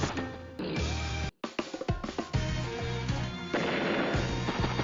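A vehicle explodes after running out of fuel in Advance Wars: Days of Ruin, a loud burst of crashing blasts and rumbling debris, with a brief dropout midway before dense battle noise resumes.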